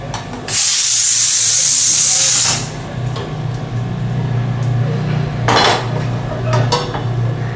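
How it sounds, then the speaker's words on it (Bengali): A cooking pot of dal is lifted off a hot stove and set aside, with a loud burst of hissing steam and sizzle followed by metallic clinks of pots and utensils close by. "ডালটা নামিয়ে এক সাইডে রাখলাম"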